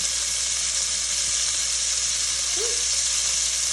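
Beef roast searing in a pot for a Cajun roast, a steady loud hissing sizzle with no break and a brief faint tone near the end.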